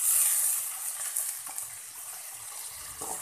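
Water sprinkled into chili powder frying in hot oil makes a loud hiss that fades to a steady sizzle, with a small stir-like bump near the end.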